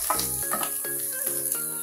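Sliced capsicum sizzles in a hot pan over a high gas flame while filling is cooked for veg spring rolls. The frying hiss is steady and close, with soft background music underneath.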